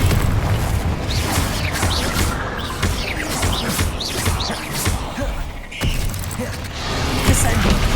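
The Confringo fire spell bursts in combat in the video game Hogwarts Legacy, loud crackling blasts and rumbling impacts layered over a dense game soundtrack and effects.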